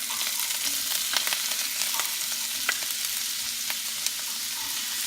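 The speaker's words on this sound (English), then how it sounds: "we're gonna fry our shrimp" Shrimp fry in a hot pan for a fettuccine Alfredo dish, giving a steady, even sizzle with scattered small pops and crackles throughout, close and continuous with no voices.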